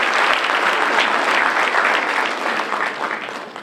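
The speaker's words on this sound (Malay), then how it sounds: "Berikan tepukan pada rakan-rakan kita di dewan sebelah sana." Loud, sustained applause from a large crowd in a lecture hall, dense clapping throughout that tapers slightly toward the end.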